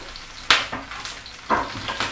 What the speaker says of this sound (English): So you can hear it really sizzling away now